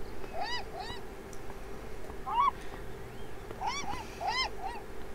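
Seagulls call in the video game Beyond Eyes: repeated squawking cries, some near and some farther off, over a steady low ambient hum.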